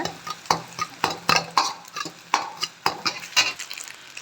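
Close-up sautéing in a pan for chicken rice, with quick, uneven scrapes and knocks of a spoon against the metal over a soft sizzle, no voices.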